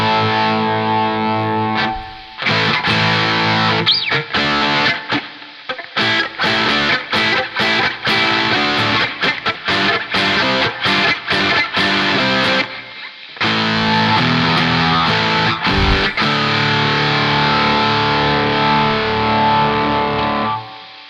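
Electric guitar played through an Electro-Harmonix Satisfaction Plus fuzz pedal, loud and saturated with a noisy buzzing tone, strummed chords and choppy bursts broken by brief pauses, no voices.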